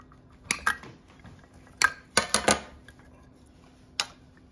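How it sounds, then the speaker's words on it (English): A few sharp metallic snips and clicks from cutters working through ceiling fan pull chain switch wires, scattered irregularly at close range over a quiet background. "if you can't pull them out, just cut them with a pair of cutters"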